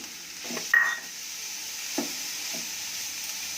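Grated carrot sizzling in a pan for carrot halwa, a soft steady hiss with a few stirring scrapes and clinks, close and fairly quiet.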